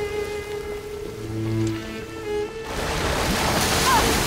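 Geyser water spraying in the video game Horizon Forbidden West: Burning Shores, a soft watery hiss that swells into a loud, steady rushing spray over the last half, with game tones sounding early on.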